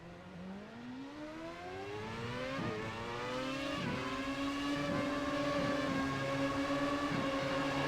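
Race car engines in the iRacing simulator scream through rising and falling gear changes, several cars overlapping as revs climb and drop at steady intervals, loud and continuous with no talk.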